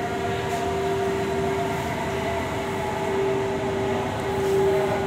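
Inside an empty Delhi metro car, the train runs with a continuous rumble and steady whine that swells slightly near the end, with no voices.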